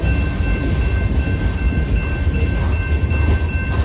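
A Metra commuter train rolls past inbound on the Fox Lake subdivision at Grays Lake, Illinois: a steady, loud, close rumble of wheels and cars with faint clickety-clack, no pauses, and no talk.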